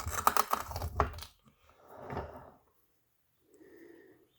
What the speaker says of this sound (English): We'll just trim that little bit off the end.